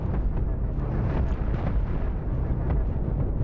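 Spaceship weapons fire at an enemy ship in the space combat game Cosmoteer, a dense, continuous rumbling barrage of low booms and pops that stays loud throughout.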